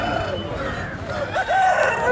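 Native roosters crowing at a village poultry market in Bhogapuram mandal, Vizianagaram district, with a rising crow cutting through a busy crowd murmur and voices nearby.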